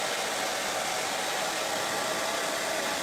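A hair dryer blows steadily on wet paint over a Christmas tree stencil for a festive door tag, a loud, even rushing whoosh held close and constant with no talk.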